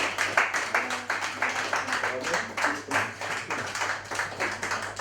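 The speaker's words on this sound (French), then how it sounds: "On les applaudit, mesdames et messieurs," Audience clapping at a hypnosis show, a rhythmic, fairly loud patter of hands in a hall, heard under a voice speaking over it.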